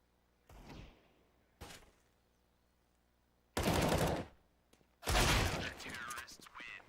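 Bursts of submachine-gun fire in a Rainbow Six Siege esports match, two short early volleys followed by two longer, louder sustained bursts, the last trailing into scattered shots.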